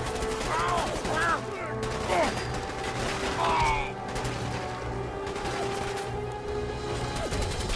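Gunfire from enemies in Fallout 4 crackles in bursts among whooshes and mechanical clanks, near and fairly loud, with a few short gaps between volleys.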